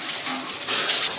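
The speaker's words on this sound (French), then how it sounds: "Je prends une douche froide." Cold shower water runs in a dense, continuous hiss of spray, close and fairly loud, with slight surges in intensity and no voices.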